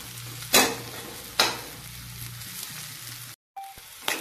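Mutton frying in a pan and being stirred, a low steady sizzle with two sharp scraping strokes, a brief gap near the end, then the sizzle returning.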